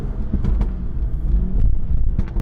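A car braking hard from 60 to a stop with downshifts through paddle shifters, heard as a close, loud low rumble of the engine and road with brief engine blips.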